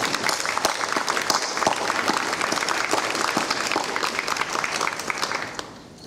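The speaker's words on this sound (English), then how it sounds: "I'm going to ask my faculty and staff from Wallace to stand and applaud the contributions that this class has made" A crowd at a nursing pinning ceremony applauds steadily, a dense, sustained clapping that fills the room and then tapers off near the end.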